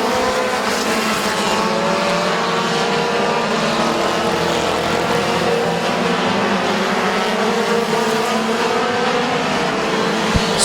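Race cars roar past at speed on Midvale Speedway, a dense sustained engine drone with rising and falling pitch from several cars circling the track, loud and continuous throughout.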